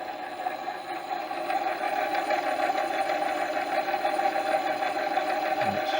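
A motorcycle magneto with electronic ignition, from a BSA B31 restoration, spun in reverse on a test rig, giving a steady mechanical whir with a fast even buzz and light rattle that holds constant throughout.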